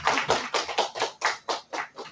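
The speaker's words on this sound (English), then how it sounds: "Clapping is encouraged when there is a speaker on stage." Audience at a Toastmasters club meeting clapping in steady rhythmic unison, about nine sharp claps, close and loud with no talk.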